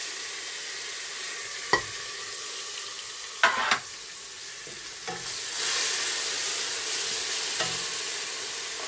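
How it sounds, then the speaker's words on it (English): Ginger and garlic sizzle in a hot pan as they fry, a steady hiss that swells slightly partway through, broken by a few sharp clinks of a stirring utensil. "That's sizzling really nicely now."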